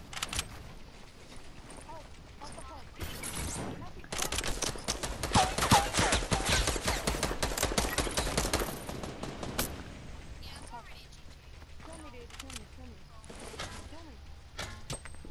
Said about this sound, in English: Shooting grenades.